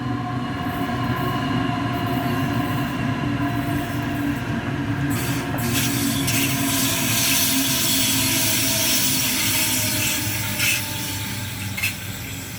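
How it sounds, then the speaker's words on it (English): A train rumbles steadily past, wheels clattering on the rails with occasional faint squeals, heard alone with no voices. "Now there's the train, right?"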